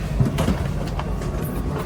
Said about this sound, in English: So this train actually goes all the way to Milan.